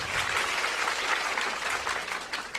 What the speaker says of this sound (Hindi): इस सवाल के लिए तालियां बजाइए।